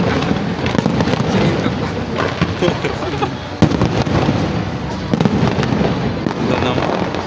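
Fireworks at a pyrotechnics exhibition crackle and pop densely and continuously, with loud bursts overlapping into a steady roar, while people nearby talk over the display.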